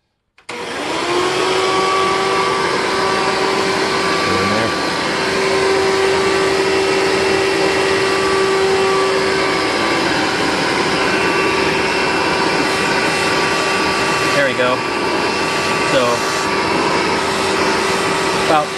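Steady, loud vacuum cleaner motor drone with the hose stretched out, running continuously at an even pitch, with faint voices under the whine; one of the machines is a Shark NV650W or a Hoover Elite.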